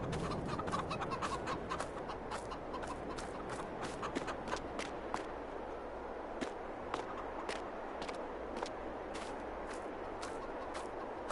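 Chickens cluck from two coops in the Ranch Simulator video game, a constant busy chorus of clucks and sharp pecks over a low background bed, no talking.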